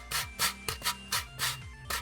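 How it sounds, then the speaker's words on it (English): Cooled potatoes are rasped on a small grater in quick, rhythmic strokes, about six scraping passes in two seconds, close and fairly quiet. "And now you're just gonna grate all of your potatoes."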